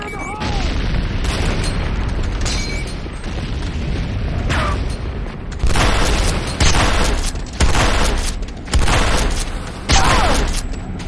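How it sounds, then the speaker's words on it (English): C4 charges detonating in the game Renegade, heavy booming blasts repeating in a loose rhythm over a dense battle din of gunfire and effects, with game voices calling out amid the noise. "C4 is set. Fire in the hole!"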